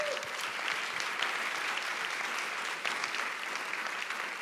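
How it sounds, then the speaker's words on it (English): Audience applause at an environmental justice convening session, a steady sustained clapping from a crowd filling the whole stretch at moderate loudness. "So I just want a round of applause"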